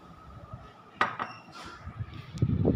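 Two small containers of salt are set down and covered with lids, producing a few sharp clinks and knocks of crockery, close and quiet, with faint shuffling between.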